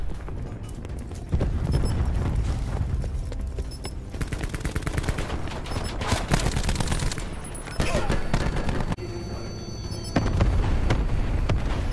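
Cluster grenade explosions in Call of Duty: Black Ops 4, a loud, dense run of rapid overlapping blasts and crackling detonations that continues in waves with brief dips between.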